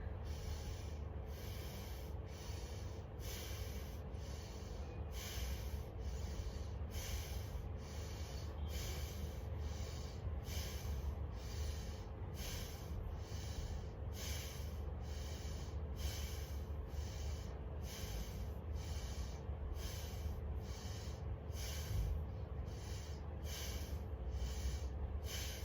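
Breath of fire breathing exercise: a long run of rapid, rhythmic nasal exhales, evenly paced and fairly soft, continuing alone for over twenty seconds.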